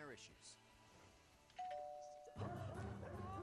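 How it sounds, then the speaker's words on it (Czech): A two-tone doorbell chime rings out, then a louder commotion of a dog barking follows. "Když jsem zazvonila u dveří, bylo slyšet jen štěkání."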